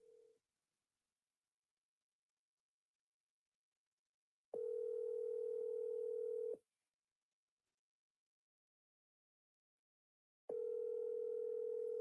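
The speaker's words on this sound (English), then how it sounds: "your phone is ringing" A telephone ring tone sounds in two long bursts separated by silence, clear and electronic, with a brief tone at the very start.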